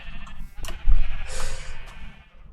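Sheep in a crafting video game bleat close and loud, one wavering call after another, with brief clicks and a soft fade at the end. No one speaks.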